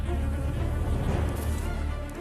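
Japanese honeybees buzz in a dense, continuous swarm hum, close and steady, with no voices present.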